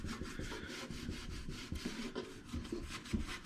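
Wood ash rubbed over sooty stove glass in swirling strokes gives a steady close-up gritty rasping and scrubbing, continuous through the clip with small rhythmic bumps.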